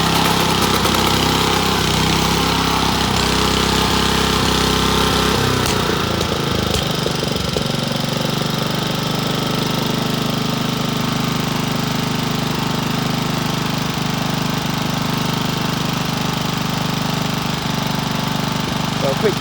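A Honda HRU216 walk-behind lawn mower engine runs loud and close at wide open throttle, with a steady drone broken by a slight miss and pop and a shift partway through.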